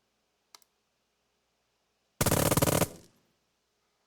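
Weapon platoon machine-gun fire in the WWII strategy game Burden of Command, a loud rapid burst lasting under a second after a faint click, then fading into quiet.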